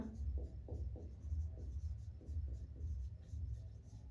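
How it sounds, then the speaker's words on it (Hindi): Chalk writing on a classroom blackboard during a geography lesson, quiet rhythmic scratching strokes in short bursts over a low room hum. "इसके बाद यहाँ पे लिखेंगे हम"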